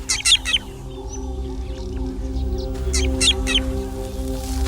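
Drongo alarm call given as a false alarm to meerkats in a natural setting: sharp, bright chirping bursts near the start and again around the middle, over a steady low droning background.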